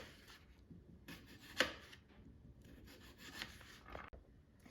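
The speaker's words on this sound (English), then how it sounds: "I need to slice them into thin slices" Knife slicing peeled potatoes into thin rounds, a few soft scraping, rubbing cuts spaced across a short stretch, close and quiet with no talk.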